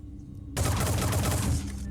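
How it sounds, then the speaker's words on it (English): Rapid burst of gunfire in the turn-based tactics game Phoenix Point, a dense volley of shots opening after a half-second of low hum and rattling on steadily before fading into a lingering room tone. "To shoot this thing in the face."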